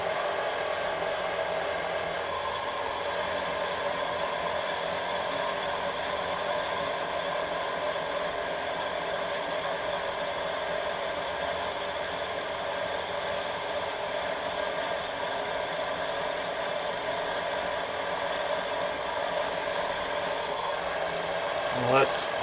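A Chinese 50 mm four-flute face mill on a milling machine cuts metal in a steady, even hiss and whine that holds without pause, moderately loud and constant throughout.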